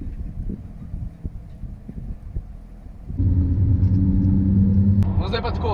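A Ford GT supercar driven at low speed, a steady engine rumble with wind noise that swells into a louder, fuller drone halfway through, with people talking over it.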